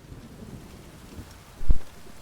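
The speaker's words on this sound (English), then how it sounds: "Proper downpour this is." Steady rain in a thunderstorm downpour in the video game The Witcher 3, with a low wash of falling water and a short, loud thunder crack near the end.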